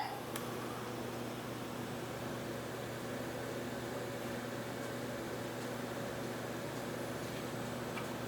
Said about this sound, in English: We will start your grinding wheel.